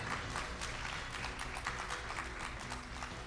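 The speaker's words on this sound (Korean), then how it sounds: "여러분 다시 한번 큰 박수 부탁드립니다." An audience at an intellectual property conference applauds with dense, sustained clapping that fills the room evenly throughout, without a break.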